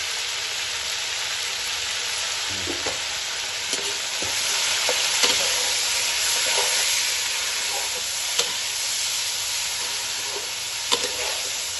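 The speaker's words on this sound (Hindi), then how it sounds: "अच्छी तरह इसकी बुनाई कर लेते हैं। हमारा गोश्त भी जो फ्राई हो जाएगा बीच में।" Chicken meat frying for biryani in a pot, a steady close sizzle with scattered clinks and scrapes of a spoon stirring, no voices over it.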